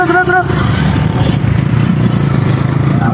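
Off-road motorcycles ride in a group near Sailung in Kavre, a steady engine drone with rattling clatter running throughout, close and fairly loud.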